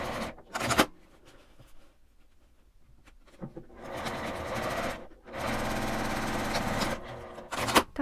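A sewing machine stitches a nylon box pouch with a 1 cm seam allowance, running in two bursts of steady rapid whirring separated by a quiet pause, with short clicks and handling noises between runs.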